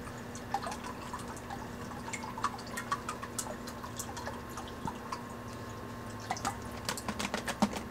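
Water drips and trickles into a snake's water bowl, a light, irregular patter of small splashes close by over a faint steady background hum, with no talking.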